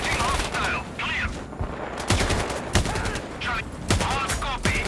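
Repeated gunfire bursts and single shots from the video game Sniper Ghost Warrior Contracts ring out loudly across a busy battlefield, with sharp cracks spaced through the stretch and radio chatter-like voices in between.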